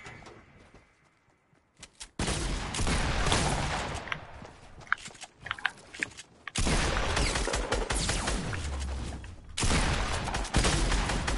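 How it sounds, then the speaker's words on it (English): Shotgun blasts and other gunfire from Fortnite boom in loud bursts after a quiet start, mixed with dense game action noise and sharp impacts. "finally shoot my shotty"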